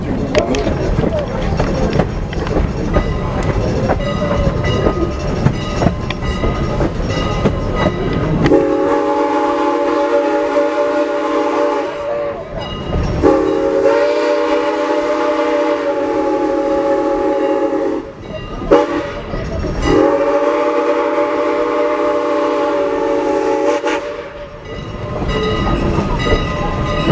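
Strasburg Rail Road steam train rolling on its rails on an early winter day, a loud, drawn-out whistle sounding in several long blasts over the steady rumble and clatter of the cars.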